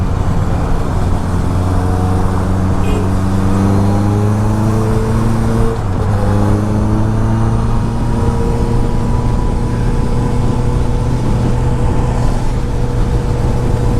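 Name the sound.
Honda CBR 650R motorcycle engine revving at high RPM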